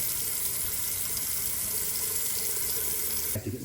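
Water runs steadily from a freshly repaired kitchen tap line, a continuous close splashing hiss that cuts off abruptly near the end.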